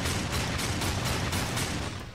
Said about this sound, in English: now I have a gun, I can shoot up there